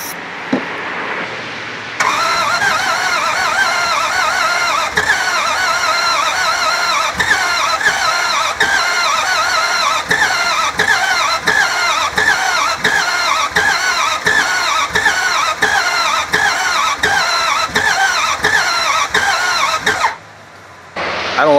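An engine sprayed with ether cranks unevenly for about eighteen seconds, a loud rhythmic chugging of the starter with irregular strokes and a repeated clunk, then stops abruptly.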